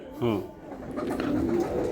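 A Giribaz racing pigeon coos softly nearby, a short burst followed by low murmuring, with people talking over it.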